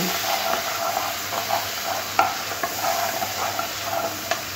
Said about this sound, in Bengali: এবার সমস্ত কিছু খুব ভালো করে মিশিয়ে নেব।